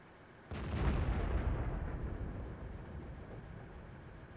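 A tank cannon fires in World of Tanks on the Malinovka map, with one sudden heavy boom and a long rumbling decay, then a sharp second report at the very end.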